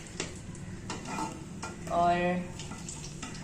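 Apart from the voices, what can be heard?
fish pieces frying in hot ghee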